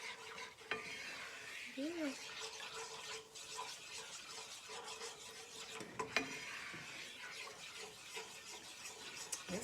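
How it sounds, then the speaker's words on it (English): Roux for seafood gumbo scraped and stirred steadily in a pot at the peanut-butter stage, a soft continuous sizzling scrape with a few utensil knocks, a brief voice heard once. "Just keep stirring, guys."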